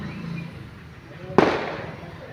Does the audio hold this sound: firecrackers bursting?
yes